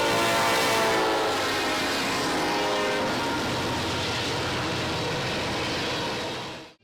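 Norfolk Southern heritage unit locomotive 1067 rolling past, recorded overly loud with broadband roar and a horn-like tone early on, steady rumble fading out at the end.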